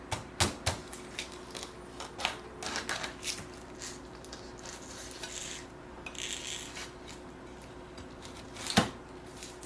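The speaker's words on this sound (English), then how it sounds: "let's cut into this pink pineapple so you guys can see what it looks like on the inside" A knife slices into a ripe Pink Glow pineapple, giving close crunchy rasping and sharp cuts through the tough rind in quick, irregular strokes, with a louder snap near the end.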